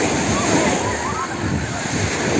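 Continuous rushing surf of sea waves breaking on a beach at Ören, Burhaniye, Turkey, loud and close, with wind noise over the microphone.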